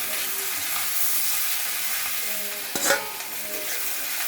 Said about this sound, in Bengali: নুডলস প্রথমে ডিম ভেজে নিয়েছি, তারপরে হলো আলু, গাজর, তারপরে কাঁচামরিচ